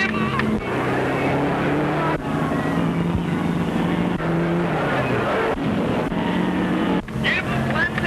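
A 1930s race car engine roars and accelerates around a track during a race, loud and sustained with shifting pitch, while excited voices shout over it.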